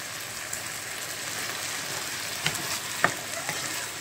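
Chana chaat mixture stirred in a pan, a steady moderate sizzling hiss with a few sharp scrapes and taps of the spoon near the end.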